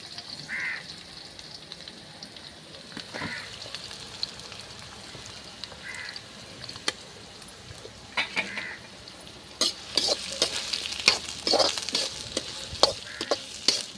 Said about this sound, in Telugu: కొంచెం జీలకర్ర ఆవాలు, కరివేపాకు, జీలకర్ర ఆవాలు కొంచెం చిప్పటన్నాక ఇంకా ఉల్లిగడ్డ అయితే వేస్తా